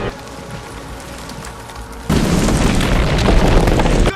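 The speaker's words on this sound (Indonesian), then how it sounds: "Sementara Kolonel dan prajurit yang lainnya terus menembakkan misil," Missile fire brings down the giant Home Tree in the 2009 film Avatar, a loud sustained roar of crashing, rumbling destruction that erupts suddenly after a quieter lead-in and continues without voices.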